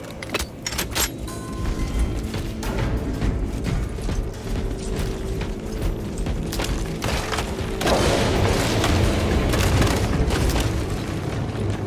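Space Marine 2 gameplay amid a dense clatter of metallic mechanical clicks and clunks from a weapon reload, layered over booming battle noise and rapid gunfire throughout.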